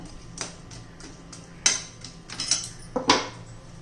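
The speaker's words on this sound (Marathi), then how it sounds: "आपल्याला एकदम चांगलं चिकट होईपर्यंत गोळा तयार होईपर्यंत असं हलवत राहायचंय" Grated fresh coconut and melting jaggery stirred in a pan until sticky for laddus: a metal spoon scrapes and clinks against the pan in irregular taps, a few sharper knocks standing out, with no talking.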